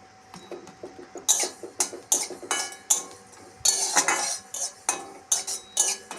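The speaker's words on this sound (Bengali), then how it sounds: "কালো জিরেটা একটু খালি কড়াইতে একটু হালকা টেলে নেব" Black cumin seeds dry-roast in an empty wok, heard as a rapid series of sharp metallic scrapes and clinks of a spoon against the pan, irregular and close, with no speech.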